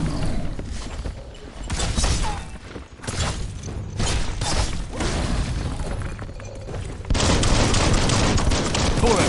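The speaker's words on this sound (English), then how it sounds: "Bullets everywhere." Heavy gunfire in the Biomutant action game, dense overlapping shots with thuds and shattering impacts, loud and close, swelling to a sustained barrage near the end with no talk.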